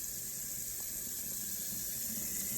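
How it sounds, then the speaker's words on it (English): Potatoes washed in a kitchen sink under a steady stream of cold running tap water, a constant close hiss and splash with no talk. "Now we're going to peel and wash our potatoes inside of the sink under cold water."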